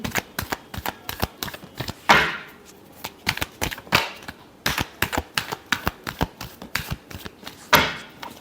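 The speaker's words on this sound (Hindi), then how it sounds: "last shuffle" Tarot cards shuffled by hand in quick bursts of dense riffling and tapping clicks, close and dry, with short pauses between rounds and no speech.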